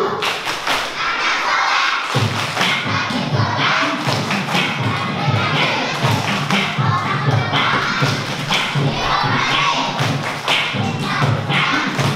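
Children clap in rhythm and chant together in a loud group, with steady repeated claps and thumps under their voices throughout.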